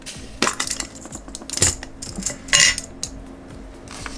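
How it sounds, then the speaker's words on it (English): Metal paper clips being taken out, giving a few sharp, close clinks and rattles at irregular moments against a quiet background. "Get my paper clips out here."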